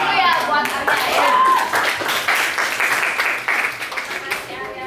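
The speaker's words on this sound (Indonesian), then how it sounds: "Tepuk tangan dulu ya buat Arya ya." Schoolchildren in a classroom clap for a classmate named Arya, a loud burst of many hands that swells and then tapers, with children's voices and a teacher talking over it.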